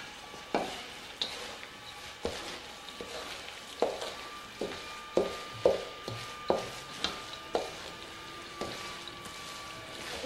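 Cabbage roll filling with salt and pepper being mixed in a bowl: a steady run of soft, evenly spaced squelching strokes, close and fairly quiet, with no voices.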